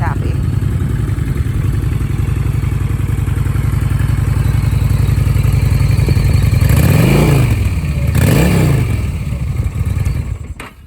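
A 2019 Honda Shadow Phantom cruiser motorcycle engine idles with a steady, low, throbbing rumble, then revs up twice near the end before settling back down.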